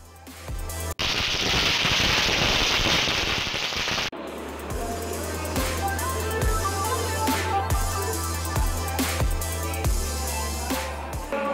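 Firecrackers set off for a birthday celebration in Manampoondi, Villupuram district, burst in a dense crackling barrage, then continue as a long series of sharp, loud, rapidly repeating bangs.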